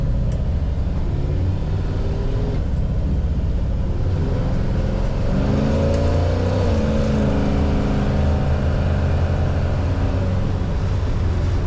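A 1963 Chevrolet Impala's engine hums and rises in pitch as it accelerates, a steady loud rumble with road noise underneath and no voices.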